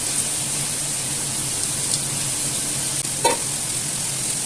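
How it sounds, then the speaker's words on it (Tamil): Onions and tomatoes sautéing in a pan: a steady, close sizzling hiss runs throughout, broken by a single faint utensil clink near the end. "வெங்காயம் தக்காளி எல்லாம் வதங்கிடுச்சு"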